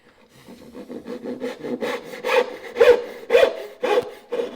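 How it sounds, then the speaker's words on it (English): A hand saw cuts a wood joint down to the baseline, giving a series of rhythmic rasping strokes that start light and grow louder and more forceful, close up with no talk. "When I set the saw down on here, and I first start to move, it starts to accumulate sawdust."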